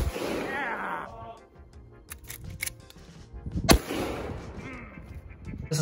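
A shotgun loaded with triple-aught buckshot fires once at body armor, one sharp loud blast standing out amid outdoor background noise.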